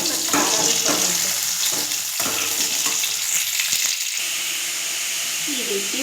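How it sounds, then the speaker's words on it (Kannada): Spices frying in oil in a pan give a steady, close, hissing sizzle with occasional stirring scrapes, running continuously throughout. "ಎಷ್ಟು ಫ್ರೈ ಆಗುತ್ತೆ ಅಷ್ಟು ಚೆನ್ನಾಗುತ್ತೆ ಮತ್ತು ಖಾರ ಬರುತ್ತೆ."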